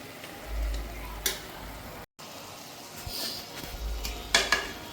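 Mutton and rice cooking together in a pot, heard as a faint steady sizzle with occasional soft stirring scrapes and light clinks, no talking.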